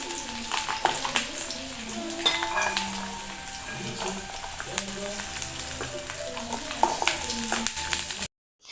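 Kashmiri chillies and garlic fry lightly in oil with a continuous soft crackle, punctuated by frequent metallic clinks and scrapes of a spoon against the pan until it cuts off abruptly.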